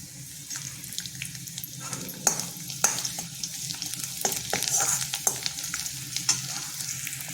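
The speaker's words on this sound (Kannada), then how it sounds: "ಇದಕ್ಕೆ ಬೆಳ್ಳುಳ್ಳಿ ಹಾಕ್ಕೊಳ್ಳೋಣ ಅದು ಸ್ವಲ್ಪ ರೋಸ್ಟ್ ಆಗಲಿ" Garlic sizzling in a pan of fried onions while a pulao is being made, a steady close frying crackle broken by scraping stir strokes, with no talking.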